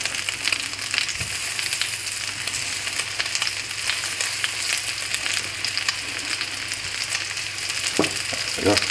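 Peaches frying in butter in a pan, a loud, continuous close sizzle with crackles and occasional scraping stirs throughout.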